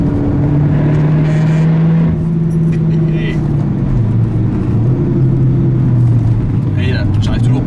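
A Citroën DS3 Performance, a small GTI hatchback, drives hard along a narrow country road, its engine holding a loud, steady droning hum that shifts slightly in pitch as it runs continuously from inside the cabin.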